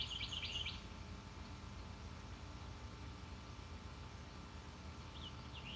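Faint bird chirps twitter in a short cluster, then return briefly a few seconds later, over a quiet, steady background hum.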